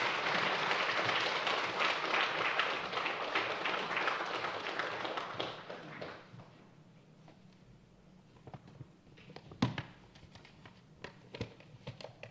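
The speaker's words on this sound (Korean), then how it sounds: "나오실 때 우리 박수로 모시도록 하겠습니다" A church congregation claps in welcome as a missionary departing for Japan comes forward at a Sunday afternoon service; dense, steady applause fills the first six seconds, then thins to a few scattered claps and taps in a quieter room.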